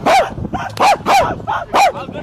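A fan greeting IShowSpeed on a road in India imitates a dog with his voice, giving five loud, close, yapping barks in quick succession.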